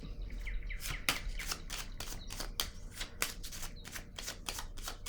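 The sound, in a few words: tarot card being laid down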